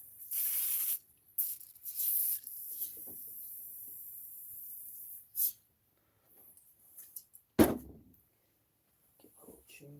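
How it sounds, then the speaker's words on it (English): Two short hissing bursts of WD-40 lubricant sprayed onto a Trek mountain bike, close and fairly loud, followed by scattered handling clunks and a sharp knock, with brief voices faintly mixed in. "Throw some WD on there."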